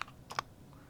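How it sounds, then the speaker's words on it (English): Quiet computer keyboard keystrokes, a few soft clicks close together, during a circuit design tutorial on a PC, with no talking. "So just press tab on your keyboard"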